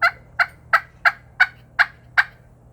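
Push pin turkey call producing clucks, seven sharp, evenly spaced yelps repeated about every third of a second, close and clear over a faint low hum.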